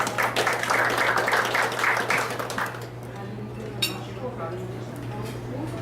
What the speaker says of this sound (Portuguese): Solicito uma salva de palmas aos componentes da mesa.